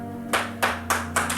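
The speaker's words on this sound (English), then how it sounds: "Let's hear that round of applause." Four sharp bursts of hand clapping, spaced fairly evenly over a second and a half, sound over a sustained tonal hum from a show setting.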